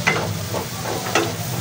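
Butter and garlic frying in a pan, a steady sizzle broken by a few scraping stirs, close and moderately loud with no talking.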